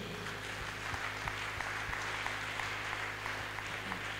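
A church congregation at an intense Thursday prayer marathon applauds, steady dense clapping at a moderate distance with a few sharper claps standing out, and no voices on top.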